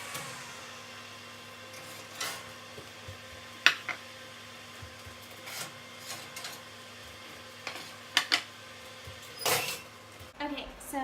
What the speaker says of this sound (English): I'm going to pull the granola out of the oven.